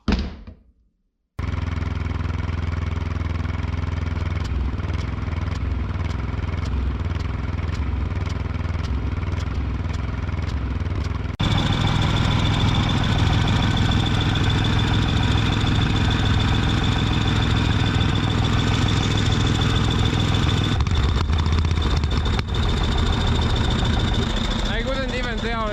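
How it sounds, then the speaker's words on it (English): A diesel engine's small pony starting motor runs loud and steady, a harsh continuous mechanical drone that grows even louder partway through, with people talking over it. "That pony motor made so much noise"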